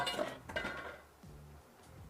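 Green onions being stirred into Korean beef and peppers, a few quiet clinks and scrapes of a utensil against the pan, faint and brief, then fading.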